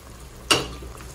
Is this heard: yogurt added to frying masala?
yes